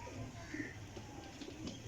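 Pigeons cooing softly in a loft, low rounded coos repeating several times over quiet background noise, with a faint voice nearby.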